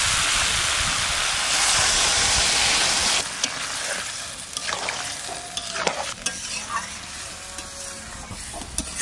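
Water splashed into a pan of frying prawns and Malabar spinach greens sets off a loud, dense sizzle that settles after a few seconds into quieter bubbling, with occasional clinks and stirring scrapes close by.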